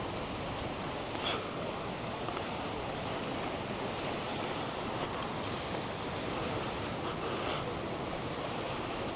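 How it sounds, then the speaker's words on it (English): Ocean waves crash and splash against dark wet rocks along the beach at Playa Paraíso, a steady broadband roar with wind noise, continuous and fairly loud across the whole stretch. "you do get the waves splashing all the way up to the windows at certain points"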